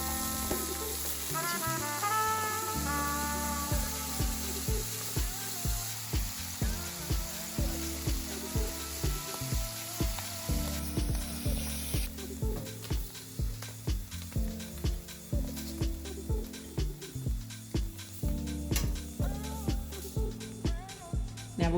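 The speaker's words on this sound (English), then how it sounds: "Now we're just going to fry our halloumi on each side until they're golden brown." Halloumi slices fry in about two tablespoons of olive oil in a non-stick pan, a soft continuous sizzle with a steady rhythm of light taps and clicks, fairly quiet and close, with a brief music-like opening and no talking.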